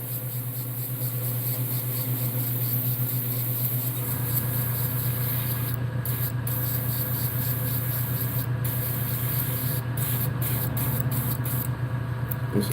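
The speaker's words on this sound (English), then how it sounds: "this airbrush is not cooperating at all." An airbrush hisses steadily while spraying paint onto a bluegill fishing lure, a constant close airy stream with a compressor drone underneath and brief clicky interruptions near the end, no talking.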